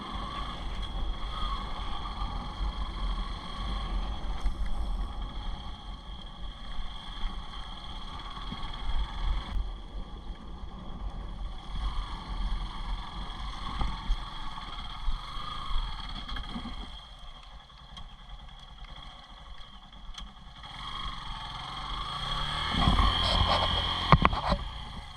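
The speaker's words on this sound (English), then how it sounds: "My bike was in first gear and I pulled up the throttle and the rear wheel just kept spinning." Yamaha FZS V3 motorcycle held in first gear while off-roading, its rear wheel spinning without grip: a steady, rough engine drone with wind noise, swelling into a louder rev near the end.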